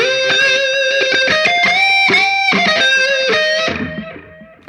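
Electric guitar through a Line 6 POD GO Elephant Man preset with drive and boost pedals engaged, heavily distorted chords and riffs played continuously and loud, ringing out and fading near the end.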